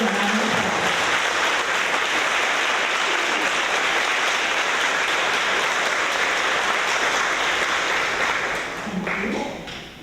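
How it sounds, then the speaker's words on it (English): Steady crowd applause for fourth-grade students at a school awards event, many hands clapping in a continuous roar for about nine seconds before thinning out, with a brief voice near the start and near the end. "Please give them a round of applause."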